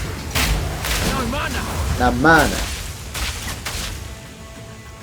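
Explosive, oil and gas grenades bursting in Path of Exile 2 combat: several sharp booms and crackling blasts scattered through a few seconds, heard under someone talking.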